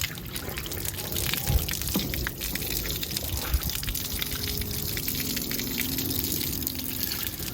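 Water pours and gushes steadily from the drain plug of a travel trailer's RV water heater, a continuous splashing flow without pause.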